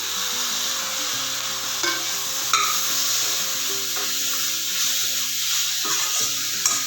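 Four tomatoes fry in a hot pan for South Indian dal sambar, giving a steady sizzle with occasional stirring scrapes and light clinks of a utensil against the pan; no one speaks.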